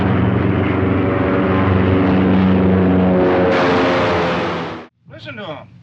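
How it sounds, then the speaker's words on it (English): In the King Kong film score, a loud, steady droning roar of aircraft engines with low humming tones fills most of the clip, cutting off abruptly before a brief, whooshing burst. "here and now, to the sound effects of the airplanes"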